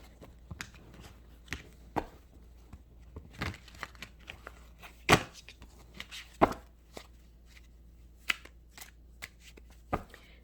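Tarot cards being shuffled during a reading, giving a series of crisp riffling and slapping bursts at irregular intervals, close and fairly quiet, with no voices.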